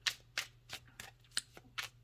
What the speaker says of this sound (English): I'm going to shuffle this card back in